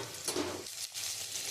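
Spice paste for a pointed gourd and poppy seed dish is stirred in a frying pan, a soft sizzle with scraping sweeps of a spoon, close and fairly quiet.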